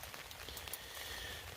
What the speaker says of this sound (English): It's supposed to stop raining tonight